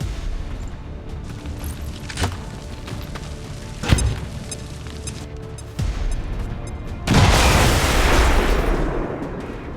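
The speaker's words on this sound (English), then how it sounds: "Throwing grenade!" A grenade going off in the video game XCOM 2: after several scattered thuds and cracks, a loud, sustained explosive roar swells and lingers to the end.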